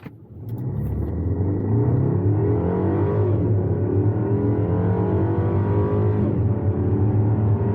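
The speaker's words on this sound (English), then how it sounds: "AC off, traction control off, sport, and quick smash the gas" A BMW X1 in sport mode with traction control off launches hard from a standstill, its engine rising into a loud, sustained droning roar that climbs steadily in pitch, with a brief dip at a gear change.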